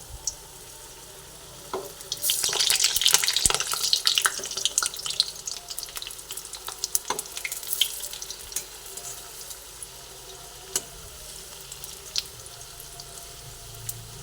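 Green pea fritters frying in oil in a pan give off a soft crackling sizzle, with sharp clicks and scrapes as the pieces are turned over, swelling then easing off.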